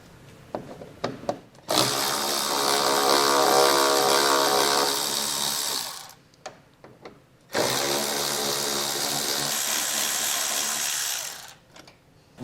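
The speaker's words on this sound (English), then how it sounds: "We're going to remove 3 10mm head bolts, and then 1 plastic fastener if you have yours in place." A power tool spins a 10mm socket to back out head bolts behind a car's front fascia during a base plate install, running in two long, steady, loud whirring bursts separated by a short pause.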